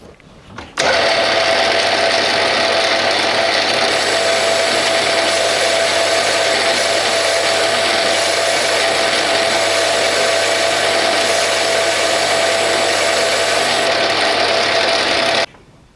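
A Bernardo P 600 G lathe turns grade 2 titanium, giving a steady, loud, continuous machining drone with a fixed high tone that runs unbroken for about fifteen seconds before stopping.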